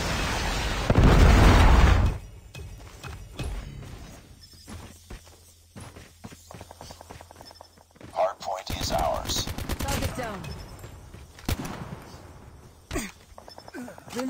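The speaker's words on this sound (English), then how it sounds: "Predator missile inbound." A Predator missile strike in Call of Duty, one heavy, loud explosion near the start, followed by scattered gunshot bursts and game sounds.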